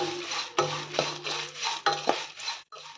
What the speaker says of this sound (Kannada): ಸ್ವಲ್ಪ ಉಪ್ಪು ಹಾಕಿ ಒಂದು ಬಟ್ಲು ಒಣ ಕೊಬ್ಬರಿ ಹಾಕಿ ಚೆನ್ನಾಗಿ ಹುರಿಯಿರಿ